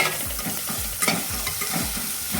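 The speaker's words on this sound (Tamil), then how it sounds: "இஞ்சி பூண்டு பேஸ்ட் ஆட் பண்ணி நல்லா பச்சை வாசனை போகிற வரைக்கும் வதக்கி விட்டுக்கோங்க" Ginger garlic paste sautéed with softened onions in a pan, a spoon scraping and stirring in steady repeated strokes over a soft sizzle, close and fairly quiet.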